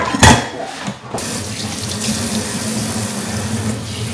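Tap water runs steadily into a kitchen sink, a continuous close rushing splash after a brief louder burst at the start, with no voices.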